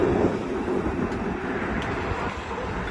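A tram rolls past on a Vienna city street, a steady close rumble with a hissing wash of noise that holds for several seconds.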